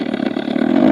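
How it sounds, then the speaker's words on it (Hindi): OLA S1 Pro electric scooter playing its synthetic vintage-mode sound, a steady old-scooter engine hum that swells slightly toward the end, close and continuous with no talk. "यहाँ पर बिल्कुल विंटेज वाली साउंड आ रही है जैसे पुरानी स्कूटर्स में आती थी।"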